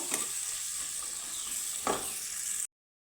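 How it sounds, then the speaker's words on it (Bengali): Two medium chopped onions fry gently in a pan for a potato dish, a steady soft sizzle with a few light stirring scrapes before cutting to silence near the end. "পেঁয়াজটাকে আমি হালকা করে ভেজে নেব"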